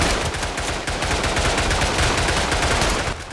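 Rapid machine gun fire in the World War I shooter Tannenberg rattles continuously at close range, a dense, loud stream of shots with no talk.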